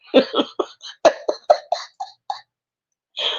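A run of harsh coughs in quick bursts, one after another, then a pause before a final rougher cough or throat-clearing, close by.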